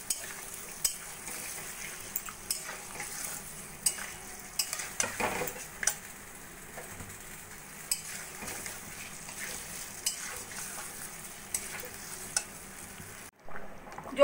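Potatoes cooked with milk in a pan being stirred with a spoon, a soft simmering sizzle under repeated scraping and clinking strokes, moderately quiet and close.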